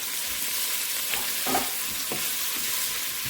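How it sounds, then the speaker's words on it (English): Onions fry in hot ghee for a beef yakni pulao, producing a continuous bright sizzle with a few soft bumps and stirring scrapes, close by and steady. "I'm just going to put our onions into this, and we're going to fry these up."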